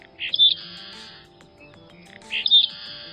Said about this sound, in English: A Modromus Maritimus, the seaside sparrow.